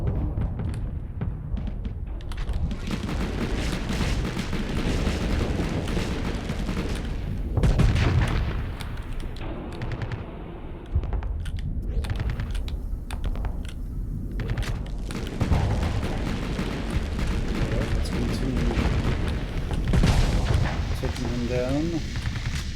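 Space combat in Starsector as a destroyer ship is destroyed: heavy booms and rolling explosions overlap almost without pause, with bursts of weapon fire, loud and continuous, and a voice talking over the din.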